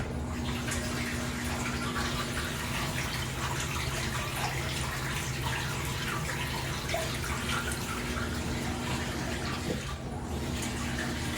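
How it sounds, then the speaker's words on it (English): A Fisher & Paykel Intuitive washing machine drains water before its final spin, giving a steady rushing, gurgling wash of water at an even level throughout. "Draining for the final spin."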